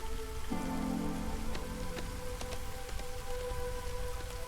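Steady rain pours down in the video game Against the Storm, a dense, even hiss of drizzle on surfaces running throughout, with faint game tones and soft clicks layered over it.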